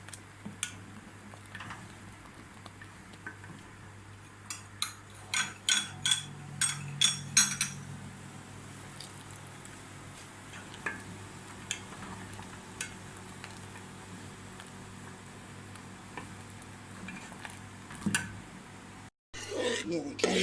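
A spoon scrapes and clinks in a pan while doodh dulari is stirred. The scraping comes in a quick burst of sharp taps, then spaced scrapes follow over a quiet kitchen hum.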